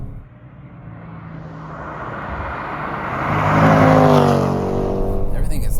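A 2022 Jaguar F-Pace SVR performance SUV accelerating hard, its engine note rising loudly and steadily through the responsive automatic gearbox, with an audible shift near the end.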